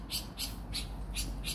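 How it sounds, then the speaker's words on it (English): A bird calls from up in a tree outdoors in Jamaica, repeating a bright high call about five times in a steady rhythm over constant low background noise. "A bird confirm it. See a bird up in the tree?"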